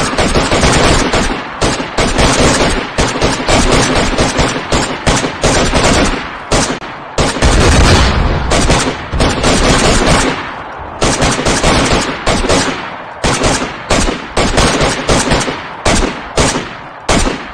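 Heavy gunfire in a DayZ match: loud, sustained bursts of automatic fire and rapid single shots crack almost continuously, with brief gaps between volleys and a louder blast in the middle.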